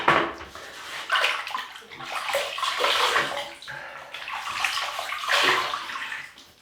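Water running from a tap and splashing in a sink while a face is wetted for a razor shave, steady and close with sloshing surges.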